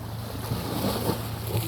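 Steady rushing wash of sea waves close by in Batangas, mixed with gusty wind buffeting the microphone, continuous throughout.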